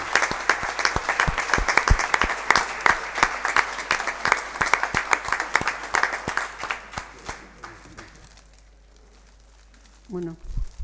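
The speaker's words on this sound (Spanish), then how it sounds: "Y un aplauso para todas, y para Miquel también" An audience at a poetry book presentation claps in dense, lively applause that thins and fades over several seconds, followed by a moment of quiet before a voice speaks.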